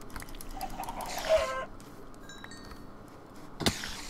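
Chickens cluck in Minecraft, giving a few short, soft clucks over a quiet background, followed by a brief sharp burst near the end.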